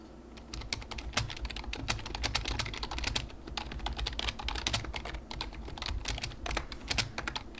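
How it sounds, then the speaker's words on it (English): Rapid typing on a computer keyboard in a quiet ASMR setting, a dense, close stream of crisp key clicks with quick bursts and brief pauses, steady and fairly loud with no talking. "Why do I type so fast?"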